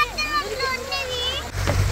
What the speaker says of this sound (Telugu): చిన్న జలపాతం చాలా బాగా సెట్ చేశారు